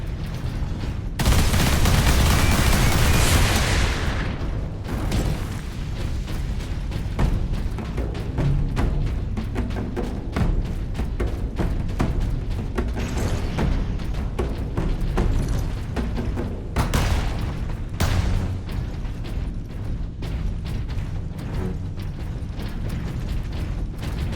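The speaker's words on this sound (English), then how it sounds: "Sentry guns ahead." Sentry guns in the Space Marine video game open up in a loud, dense, sustained burst of automatic fire with mechanical rattling, peaking early and then continuing as steady chattering gunfire without speech.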